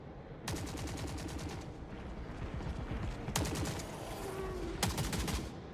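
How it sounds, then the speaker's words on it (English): Automated turrets firing in the video game Forever Winter: continuous rapid automatic gunfire with dense rattling bursts and a few sharper volleys, loud and sustained throughout. "Let's let the turrets do their things."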